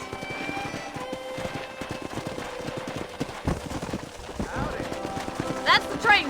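A horse's hooves clip-clop in a steady galloping rhythm while riding in Red Dead Redemption, with game dialogue and a few sharp effect sounds over it near the end.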